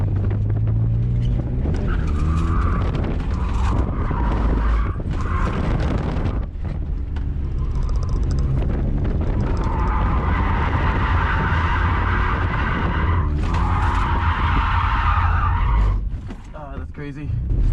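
A drift car on its warm-up run, the engine roaring continuously with tires skidding and squealing through long slides, heavy wind buffeting the microphone throughout.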